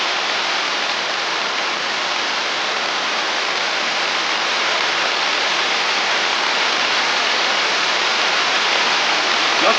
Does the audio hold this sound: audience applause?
no